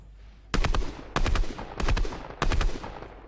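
Fortnite Battle Royale gunfire from a controller player's weapon: four loud, sharp bursts of shots, each a quick rattling volley of several rounds that rings out and decays, spaced roughly half a second apart, with no talk over them.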